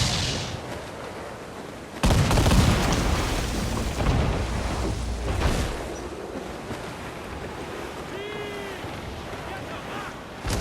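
Ship cannons fire in a naval battle in Assassin's Creed Black Flag, with a heavy booming barrage, rumbling blasts and crashing impacts over wind and sea. Crew voices shout under the roar, and a high whistle comes near the end.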